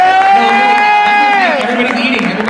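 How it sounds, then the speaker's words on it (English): A studio audience at a drag competition show cheers loudly, with shouted whoops and excited voices swelling together over a bed of crowd noise. "I think you should give yourself a big round of applause"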